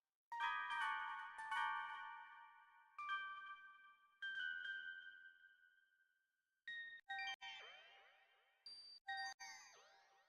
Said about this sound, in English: Nice little bell tone that flies up.